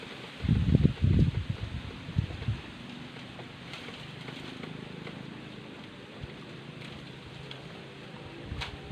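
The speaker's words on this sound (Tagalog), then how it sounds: "Sobrang hangin dito guys." Gusty wind sweeping through a bamboo grove, with a few loud blasts buffeting close in the first seconds, then a steady broadband rustle of leaves and stalks that continues without talk.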